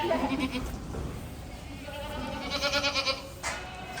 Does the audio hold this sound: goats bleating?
yes